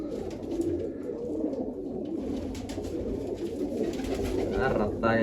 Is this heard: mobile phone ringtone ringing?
no